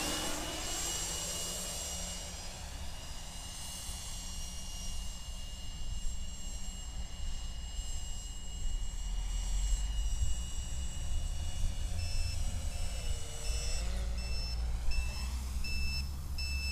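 Electric ducted fan on a tricopter spinning up, a steady high whine and airy roar that swells louder toward the end, heard fairly close with no speech.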